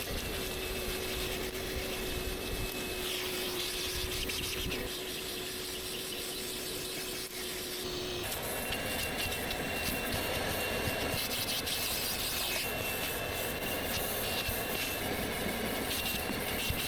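A vacuum cleaner works over the interior of a heavily soiled GMC Yukon SUV during a deep detailing job. It makes a continuous, close whine with a steady tonal hum, and the pitch and suction shift noticeably partway through as the nozzle moves.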